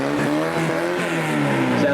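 A car engine revving loudly and close by during a small-town parade, a harmonic rev held for about two seconds with slight rises and dips.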